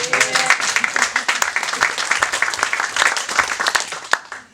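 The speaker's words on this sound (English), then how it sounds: "round of applause for Pierre" An audience at a Le Wagon coding bootcamp demo day in Brussels claps for the bootcamp manager, Pierre, a loud continuous burst of applause with some voices mixed in, tapering off at the end.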